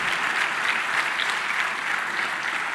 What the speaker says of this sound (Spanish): nos damos un fuerte aplauso por los pastores anteriores y los hermanos anteriores